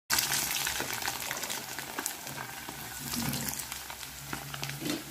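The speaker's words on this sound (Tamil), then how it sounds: "இப்போ எங்களோட வெங்காயம் நல்லா முருகுது" Onions frying in a pan for Sri Lankan sprats sambol, giving a steady, fairly loud crackling sizzle with occasional scrapes of stirring and no talking.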